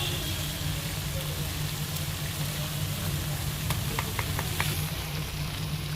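Muri ghonto with ghee and garam masala being stirred in a pan, a steady dense sizzle throughout with several quick light clicks of a spoon against the pan near the end.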